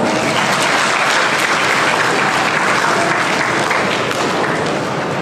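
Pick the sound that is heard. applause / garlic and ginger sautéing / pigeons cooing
applause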